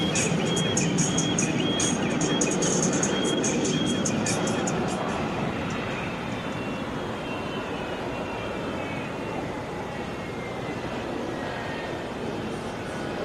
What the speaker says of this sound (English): This is Delta 71, Airbus A330.